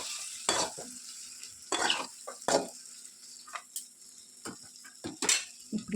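Fried eggs being stirred into soft cooked tomatoes in a pan, with irregular scraping strokes of a spatula over a low background sizzle, close and alone.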